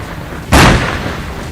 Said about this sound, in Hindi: मोर्चा संभाले इजराइल की तोपें गाजा पर ताबड़तोड़ गोले दागती नजर आईं